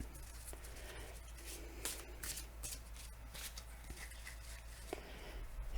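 Oracle cards being shuffled by hand, a quick run of close, crisp riffling and flicking bursts over a faint steady low hum, with no voices.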